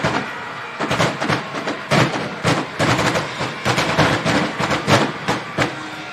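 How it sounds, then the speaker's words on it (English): Fireworks burst in rapid, crackling volleys over an evening high school football game between Crown Point and Valparaiso, a dense run of loud pops and booms filling several seconds without talk. "now you really get to enjoy the fireworks because of it's a little bit later in the evening."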